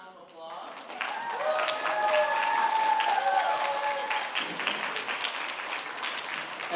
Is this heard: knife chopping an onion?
no